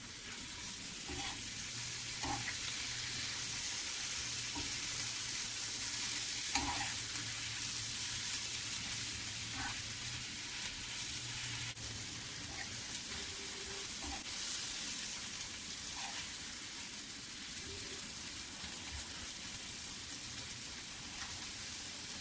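Jute leaves stir-frying with dried fish in a pan, giving a loud continuous sizzle throughout, with intermittent scraping and clacking from a spatula as the mix is turned; a low steady hum runs underneath.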